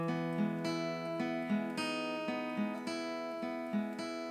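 Fingerpicked acoustic guitar playing the second half of a song's intro at a slightly quicker pace, steady ringing plucked notes, quiet and close with no voice.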